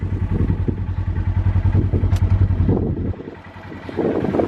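A Polaris RZR 900 side-by-side drives close by, its engine a steady throbbing drone that drops away near the end before picking up again.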